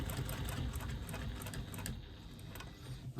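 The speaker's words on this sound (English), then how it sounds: "Now when you're free motion quilting, you are the person who has to move the fabric." A sewing machine stitching during free motion quilting, a quiet rapid mechanical chatter that runs steadily and eases slightly toward the end, alone without talk.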